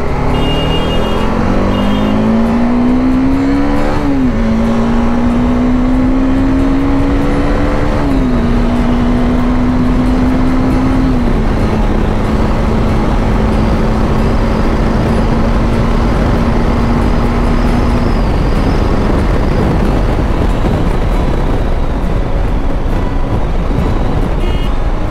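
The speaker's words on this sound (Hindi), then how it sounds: "98 पे गाड़ी अभी फिलहाल बढ़िया चल रही है" A 400 cc Yezdi Adventure motorcycle cruising on a road near 98 km/h, its engine droning at a steady high pitch that climbs through gear changes early on, with heavy rushing wind noise throughout and no talking.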